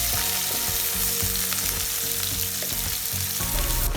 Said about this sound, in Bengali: আমি কড়াইয়ে অল্প একটু বাটার এবং তেল দিয়ে পেঁয়াজ কুচিগুলো দিয়ে দিলাম।